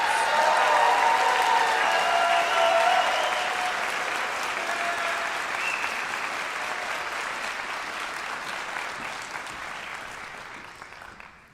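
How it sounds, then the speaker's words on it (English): A room full of people applauds nursing graduates at a pinning ceremony, with loud, dense clapping that slowly thins and fades to silence over about eleven seconds. "Let's give one more really big round of applause for our graduates."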